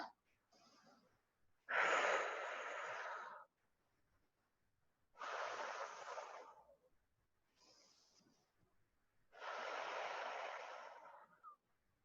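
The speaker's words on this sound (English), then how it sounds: "Take a few deep breaths" Deep breaths in a yoga class: three long, loud breathy exhales spaced a few seconds apart, with softer inhales between them, close to the mic.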